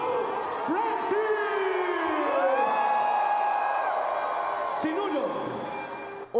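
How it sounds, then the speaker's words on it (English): A huge, elated crowd cheers and whoops as the Pope circulates through the throngs at an outdoor mass in Rizal Park, Manila, a dense, continuous roar with rising shouts and a voice speaking over it. "Elated crowds greeted him as he quickly circulated through the throngs."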